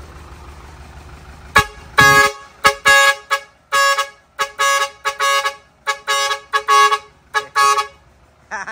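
A vehicle horn module blasts in a rapid series of short and longer honks, loud and close, with quiet gaps between bursts.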